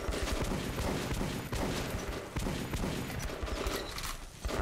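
An old gun fires repeatedly in the video game Metro 2033 Redux, a rapid string of loud, close shots in uneven bursts filling the moment, with no talking.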